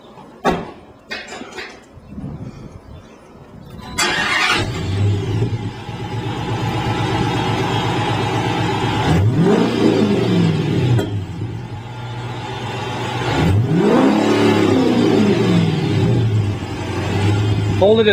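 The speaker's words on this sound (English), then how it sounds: "let's start it up and see what it sounds like" A Dodge Challenger with a Borla exhaust cranks and catches after a few clicks, then settles into a steady idle with two distinct revs rising and falling, loud and close.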